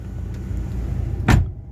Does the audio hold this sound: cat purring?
no